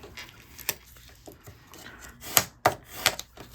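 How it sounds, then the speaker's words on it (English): Scraping tool dragged across a surface while making a Halloween candle holder, giving a few sharp, close scrapes and light taps with quiet gaps between them and no talking. "I'm going to take my scraping tool and scrape that down"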